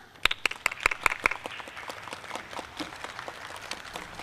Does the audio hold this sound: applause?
yes